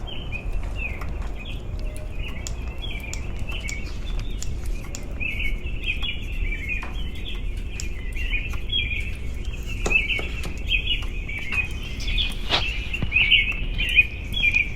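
Small birds chirp and tweet steadily outdoors, a continuous high twittering with scattered sharper calls, moderately close, over a low background rumble.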